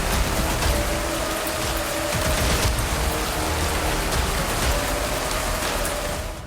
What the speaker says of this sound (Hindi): अचानक तेजी से बरसात होने लगी।